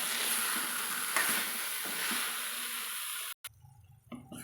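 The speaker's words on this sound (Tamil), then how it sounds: "இந்த மாதிரி நல்லா உருண்டைகள்லாம் உடையாமல் நம்ம கலந்து விட்டுக்கலாங்க" Raw banana kola ball curry being stirred in a pan, a steady bubbling sizzle with soft scraping strokes, close and fairly quiet, cutting off abruptly near the end.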